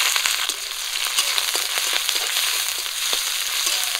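Chopped onion and green chili with panch phoron and bay leaf frying in hot mustard oil in a wok, a loud steady sizzle close by, crackling and popping throughout with no voices.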